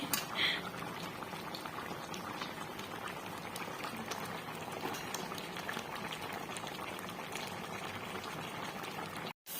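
Assamese-style drumstick curry bubbling at a steady, moderate boil in a pot, a continuous close simmering hiss that runs almost the whole time and then cuts out briefly at the end.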